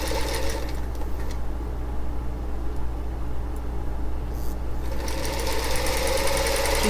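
A home sewing machine runs steadily while stitching a small fabric scrap, its fast even whirring loud and continuous throughout, with a short change in tone partway through and no talking.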